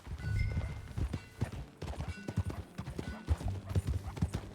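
Rhythmic hoof clip-clop of a horse walking in the Red Dead Redemption 2 video game, close and steady, with a brief whinny mixed into the trotting beats.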